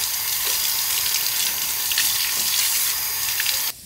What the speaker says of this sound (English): So now I'm just washing it off of water.